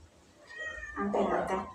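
A cat meows close up, one drawn-out, wavering cry that rises and ends in a louder complaint.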